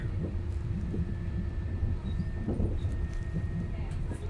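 A passenger train between Crewe and Manchester Piccadilly rumbles low and steady from inside the carriage, with a faint tonal whine and soft rhythmic clicks of wheels on rail joints.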